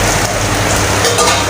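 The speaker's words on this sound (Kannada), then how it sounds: "ಇದೆಲ್ಲ ಫ್ರೈ ಮಾಡ್ಕೊಡಬೇಕು" Cumin and coriander frying in a pan for Udupi sambar, giving a loud, close, steady sizzle with faint stirring and no talking.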